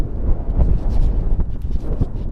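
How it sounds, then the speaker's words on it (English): Strong gusty wind buffeting the microphone outdoors, a loud continuous low roar with uneven surges throughout. "Windy."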